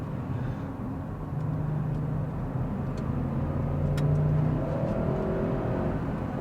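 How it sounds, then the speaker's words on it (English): A car at a Houston street car meet revs and climbs quickly through its gears, the engine note rising and dropping in steady steps, loud and close with no voices. "Machine guns through the gears like crazy."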